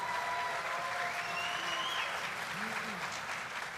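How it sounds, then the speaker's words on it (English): A crowd at an engineering school commencement applauds the university president, a continuous wash of clapping heard from a distance with faint voices and a few tonal whistles or cheers rising through it. "you can clap for Stacy"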